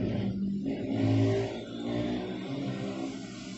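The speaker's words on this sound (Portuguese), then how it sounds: "Vai passar essa moto?" A motorcycle engine rises and falls as it passes close by, loud at first, swelling near the middle and then trailing off into a steady drone.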